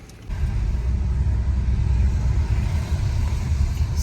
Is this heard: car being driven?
yes